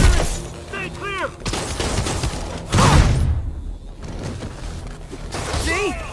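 Scattered gunfire and crashing impacts during a street fight in Marvel's Spider-Man on PS4, mixed with shattering debris, thumps and a rising whoosh, while character voices call out over the chaos.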